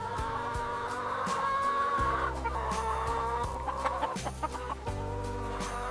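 Chickens on a farm cluck in short, scattered bursts over a steady low background hum, with no voices.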